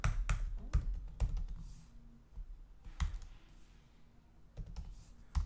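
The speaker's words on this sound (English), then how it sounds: "Get me used to typing that." Keys clatter on a computer keyboard during a programming session, a close run of uneven taps and clicks with short pauses between bursts.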